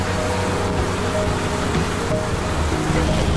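Steady rain pours down outside a small crowded house, a dense broadband hiss of water falling and splashing that fills the whole stretch evenly and loudly, with no voices.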